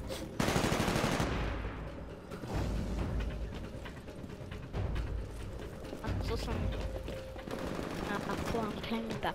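Rapid automatic gunfire and mechanical weapon sounds from the video game Titanfall rattle in long, loud bursts, with a player talking over the shooting.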